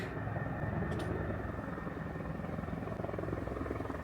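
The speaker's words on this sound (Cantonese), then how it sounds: "我哋而家見到有架直升機飛過去窗外嗰度咯" A helicopter flying past outside a window in the Japanese mountains, a steady rumbling rotor and engine drone heard from inside, moderately loud and continuous with no talk.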